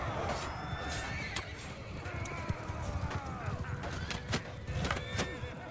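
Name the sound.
horses of horse archers in a video game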